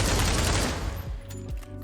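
Scorpion submachine gun firing in the VR shooter Pavlov VR, a dense rapid automatic burst that stops after about a second and leaves a few sharp trailing shots and echoes, loud and close.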